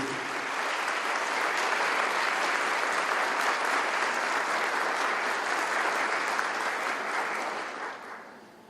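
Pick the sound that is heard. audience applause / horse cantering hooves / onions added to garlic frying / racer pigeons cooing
audience applause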